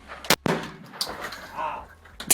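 A 12-gauge shotgun firing in the Critical Ops video game, giving sharp loud blasts near the start with a rolling, fading tail, and another shot at the end, close and punchy with no talking.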